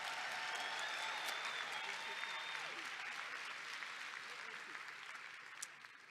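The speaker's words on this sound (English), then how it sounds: "would you just give our youth committee members a round of applause?" Delegates at an NAACP national convention resolutions plenary applaud youth committee members, a steady wash of clapping across a large hall that slowly thins toward the end.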